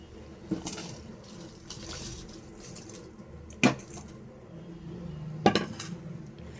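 Rice tipped into a pot of boiling water and stirred for mushroom biryani, giving a couple of sharp metallic clinks against the pot over a low bubbling background, with no talk.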